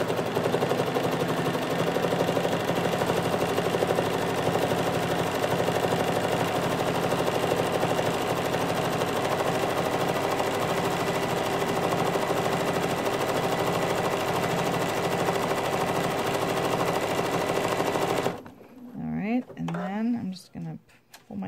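Sewing machine stitching appliqué for an iris greeting card with purple thread, a fast steady mechanical whir running continuously close by, then stopping near the end.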